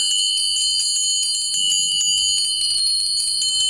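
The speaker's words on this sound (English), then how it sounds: "Indian brass bells here." Indian brass bells ring continuously with bright, high, sustained tones, repeated light strikes keeping a steady shimmering wash, close and fairly loud with no voices.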